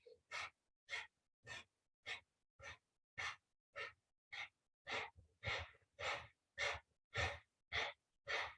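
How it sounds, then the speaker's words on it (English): Kundalini yoga breath of fire: a steady series of about fourteen sharp, rhythmic nasal breaths, each a short forceful puff with brief gaps between, close and fairly quiet, with no talking. "And then we're going to add breath of fire to it."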